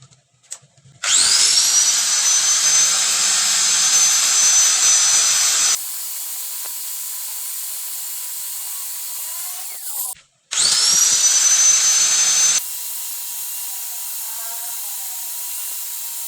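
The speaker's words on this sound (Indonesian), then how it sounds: "Sekarang tinggal dihaluskan menggunakan gerinda amplas." A high-pitched sanding grinder smoothing a motorcycle rocker arm whines steadily in two long bursts, then winds down, with a quieter motor drone between runs.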